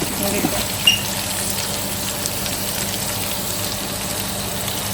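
Onion and three colours of bell pepper stir fry on a high flame, making a steady, close, broadband sizzle with a brief clatter near the start and someone speaking faintly beneath.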